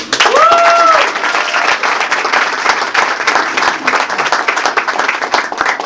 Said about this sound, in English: Please give a round of applause for our chairman and CEO, Jamie Dimon.